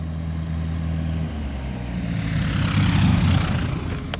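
A light propeller airplane just landed on a firm grass field, its engine droning loud and close, rising slightly toward the end, with no talk over it.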